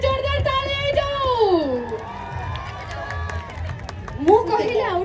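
A large audience at the BIGUL movie release event in Brahmapur whoops, shouts and cheers loudly, with high yelling voices rising and falling over a dense crowd roar.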